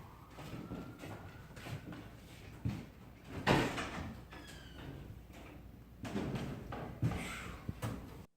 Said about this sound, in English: Opened the door so hard, the other door opened.